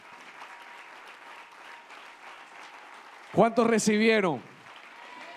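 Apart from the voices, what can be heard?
congregation applause in church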